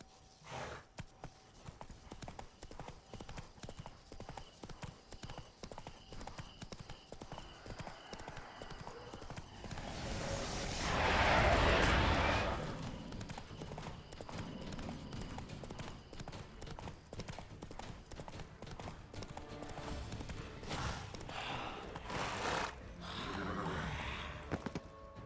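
Horse hooves clip-clop at a steady trotting rhythm in The Witcher 3: Wild Hunt, Blood and Wine, fairly close and continuous, with a louder whoosh midway and brief game voices at the edges.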